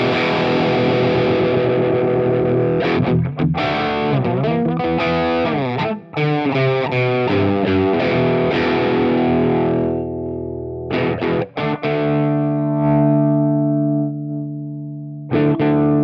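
An electric guitar through a Tomsline Aroma APN-3 Plexion distortion pedal, Marshall-style and gainy, plays loud chunky chords and sustained notes, then thins into sparser ringing notes with short pauses near the end.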